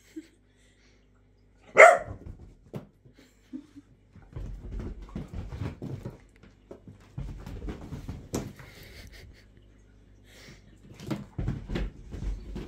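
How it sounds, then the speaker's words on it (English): A whippet puppy lets out a sharp, forceful snort like a horse, followed by scattered snuffles, small thumps and movement close by. "if you haven't seen a dog snort like a horse, here you go, just watch."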